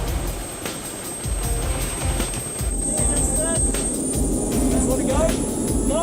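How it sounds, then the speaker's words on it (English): Rescue helicopter setting down in the New Zealand mountains, a loud continuous rotor and engine roar with a high turbine whine, rising slightly as it lands. "By the time the chopper lands"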